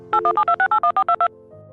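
A rapid run of ten evenly spaced touch-tone beeps as a telephone number is dialed, loud and clear, followed by a lower steady tone.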